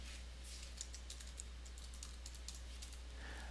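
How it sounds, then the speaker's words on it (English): Close, quiet typing on a computer keyboard, a steady patter of light key clicks entering a password over a constant low electrical hum. "And I'll just retype that here."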